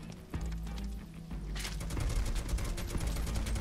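Gunfire in Final Fantasy VII Rebirth: a single sharp shot, then a rapid burst of crackling shots over rumbling game background.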